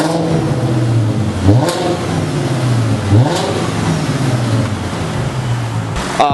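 A Volkswagen Passat W8 engine with its muffler removed revs loud and raspy, up and down repeatedly, rising in pitch with each throttle blip, heard close with no talking.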